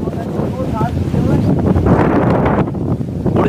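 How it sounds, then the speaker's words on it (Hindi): Strong wind blasts across the microphone outdoors near a buffalo, a loud continuous roar and rumble that swells and gusts throughout the clip. "जितनी तेज हवा चल रही है"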